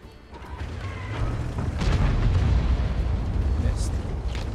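Tank cannon fire in World of Tanks: a heavy, booming blast with a long rumbling roll that fills the whole clip, loud and close.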